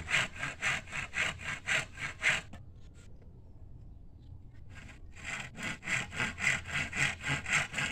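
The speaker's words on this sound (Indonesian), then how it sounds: "Ini dilakukan dengan mempergunakan gergaji tangan." A hand saw rasps back and forth through bamboo in fast, even strokes, pausing briefly midway before resuming the rhythmic cutting, close and clear.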